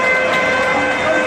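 A stadium siren wails steadily and loudly at Goodison Park before kickoff, a sustained tone over a crowded, noisy background with voices mixed in.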